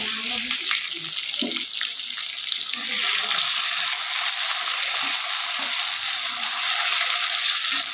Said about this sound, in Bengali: এই কাঁচা লঙ্কা, কালো জিরে আর টমেটোটা একটু ভেজে ভেজে নেবো